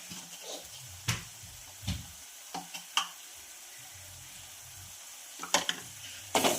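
Onion-garlic masala, coriander powder and salt frying in a pan for a shengole dish, a faint low sizzle broken by several sharp scraping and clinking stirs, with no talking.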